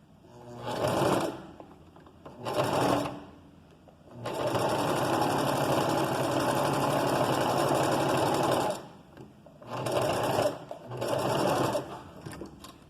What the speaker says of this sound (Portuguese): Às vezes, gente, máquina caseira agarra um pouquinho, é normal.